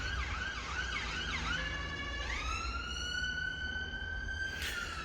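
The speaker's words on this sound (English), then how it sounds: "so wait for the siren to go." A wailing electronic siren from an Abarth 500 with an ESC fault sweeps up and down, then holds a steady high tone, loud and continuous over a low background hum.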